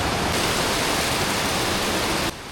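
A mountain stream in the Sahyadri hills flows near a waterfall, a steady, loud rushing hiss of water that holds constant and then drops somewhat in level near the end, with no voices.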